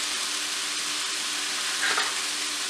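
Onions and mushrooms brown together in a pan with vegetable-based butter, giving a continuous close sizzle with a faint steady hum beneath and a short flare of crackling near the end.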